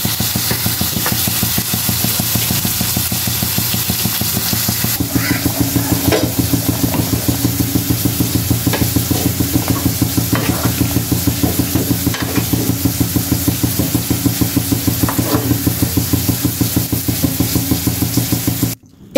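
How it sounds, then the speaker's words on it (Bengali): An egg frying with Malabar spinach (pui shak) in a pan, a loud continuous sizzle under rapid, rhythmic scraping and stirring strokes that keep going for the whole stretch, with a brief cutoff at the end. "এখানে আমি ডিমটা ভুনা করতেছি পুঁইশাক দিয়ে।"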